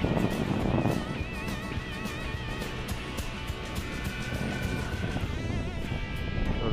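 F-4 Phantom jet roaring through a touch-and-go, a loud continuous engine rush with wind buffeting on the microphone, sustained and close with no pause.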